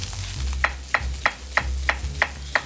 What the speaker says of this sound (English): And now I'm gonna do some caramelized onions.